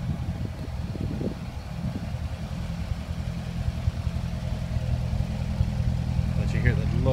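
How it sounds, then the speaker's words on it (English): Engine of a 2009 Chevrolet Corvette with quad exhaust idling in a steady low rumble close by, with light mechanical ticks and a faint rise toward the end. "Let you hear the low rumble of it. Get your quad exhaust there."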